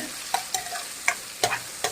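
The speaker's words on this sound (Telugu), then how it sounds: "సన్నగా తరిగి పెట్టుకున్న ఉల్లిగడ్డ వేసి కలిపేస్తున్నాను" Chopped onions and curry leaves sizzle and fry in hot oil while being stirred, with several short scraping strokes breaking through the steady crackle.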